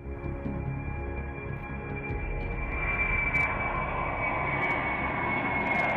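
A C-5 military transport aircraft passes with a broad, steady jet engine roar that swells louder partway through, a high whining tone riding above the rumble, no voices present.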